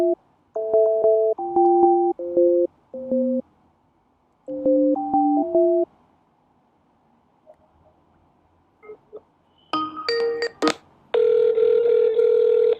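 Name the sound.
telephone call ringing to Bank of America customer service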